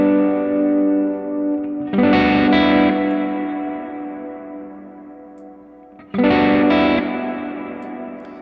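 Two sustained guitar chords through a Line 6 Helix plate reverb, bathed in a dark, smooth reverb, each hit swelling then decaying slowly into a lingering wash.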